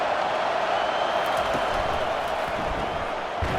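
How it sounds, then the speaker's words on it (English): In the College Football 25 video game, a stadium crowd roars steadily in the red zone. The cheering is a dense, continuous wash of noise with a few faint thumps beneath it. "Now the crowd responding in the red zone,"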